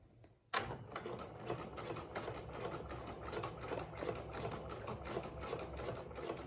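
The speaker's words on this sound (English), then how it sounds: "And we stitch across the fabric to hold the pleats in place." A sewing machine runs a long basting stitch across pleated fabric at a 5/8-inch seam to hold knife pleats. It starts abruptly after a brief pause and then whirs steadily and rapidly, close and loud, with no talking.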